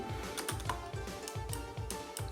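Rapid clattery tapping on an MSI Vigor GK50 Low Profile keyboard lacking insulating foam underneath, keys striking in an uneven rhythm with a hollow, resonant rattle, close and moderately loud.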